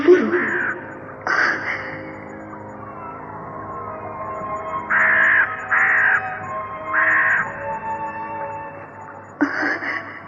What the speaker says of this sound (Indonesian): Mengapa ada burung gagak? Burung kedasi?